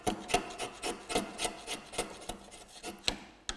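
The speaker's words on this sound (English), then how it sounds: "I'm going to chisel." A chisel pares a wooden tenon by hand, making a quiet series of short scraping, rasping strokes in an uneven rhythm, close up with no talking.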